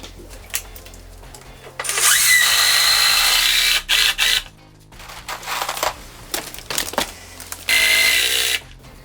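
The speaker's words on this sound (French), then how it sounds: "Maintenant, on visse." A power drill drives screws through a floor plate for an interior wall, with several loud whirring bursts that rise in pitch and brief rattling pauses between them.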